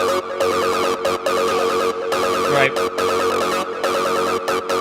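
Several bright synth lead lines stacked together, playing a busy melody over a steady full mix, loud and continuous with brief dropouts.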